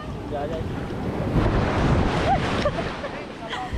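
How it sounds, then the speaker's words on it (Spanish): Caribbean sea waves breaking along the shore near Chuao, Venezuela, heard from a boat coming in, a steady loud wash of surf mixed with heavy wind buffeting the microphone, with a few brief swells of louder spray. "Miren porque revientan las olas y un desastre."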